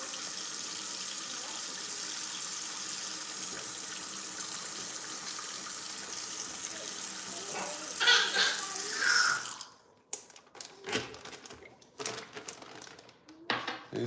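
Tap water runs steadily into a sink over frozen pork belly, a constant hiss that stops near the end, followed by scattered clatter and handling sounds from a home kitchen.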